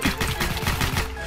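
Gunfire in Minecraft, heard as a quick rattling burst of repeated shots in a tight rhythm lasting about a second, close and loud.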